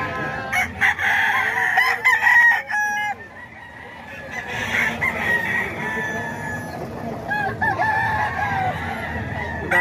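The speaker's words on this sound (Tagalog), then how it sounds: "Silipin natin yung mga manok ni Kuya Vic mga ka-idol" Roosters crow repeatedly among clucking chickens at a Bocaue poultry market, several birds calling close by over a busy, noisy background.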